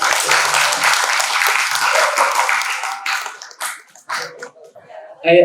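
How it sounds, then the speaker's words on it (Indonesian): An audience claps together for about three seconds in a brisk, dense burst, then the applause thins into a few scattered claps and fades as a voice begins near the end. "Tepuk tangan dulu, tepuk tangan."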